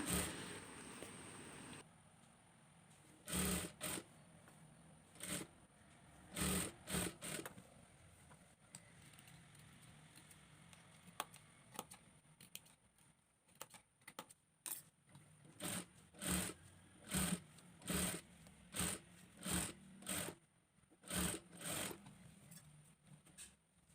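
Sewing machine stitching the back neck of a nightie, running in repeated short bursts with pauses between, each burst a loud mechanical whir over a steady faint background hum.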